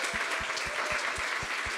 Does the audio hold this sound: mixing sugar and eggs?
no